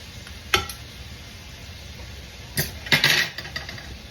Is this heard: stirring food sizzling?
yes